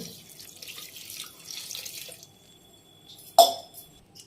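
Water runs from a tap into a pot for Odia dalma, a lentil and vegetable dish, in a home kitchen: a soft steady pour for about two seconds, then quiet, then one sharp clink.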